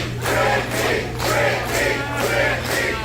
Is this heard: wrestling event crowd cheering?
yes